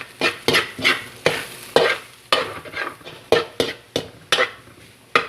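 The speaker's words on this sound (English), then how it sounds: "And we're going to give this one a good mix." Scallions, onions and ground beef empanada filling get stirred in a pan, a close run of about a dozen quick, rhythmic scraping strokes with a light sizzle underneath and no talking.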